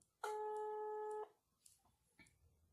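A phone call tone from a tablet with a SIM card sounds once as a single sustained, clear electronic beep lasting about a second, followed by faint tapping and handling noises.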